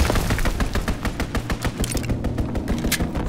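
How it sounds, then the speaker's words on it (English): An aircraft strafing run in Call of Duty WW2 multiplayer unleashes a loud, dense, continuous rattle of rapid gunfire with crackling impacts, sustained throughout with no pauses. "Strafing run inbound!"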